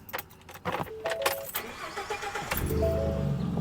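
A lifted Ford F150 pickup truck: keys jingle and clatter close by, then the engine cranks and catches midway, settling into a steady low idle rumble.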